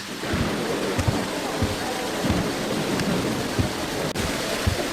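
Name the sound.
rain falling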